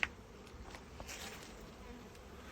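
A close, steady buzzing of many honeybees hums around at a hive, faint and continuous, with occasional louder passes of individual bees.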